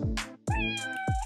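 A cat gives three clear meows in a row, close and distinct with short pauses between, and no voices over them.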